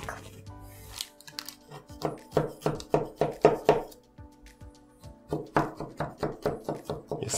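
Knife slicing through a plum cake, a run of crisp rhythmic cutting strokes, close and fairly quiet, pausing briefly before another series of cuts.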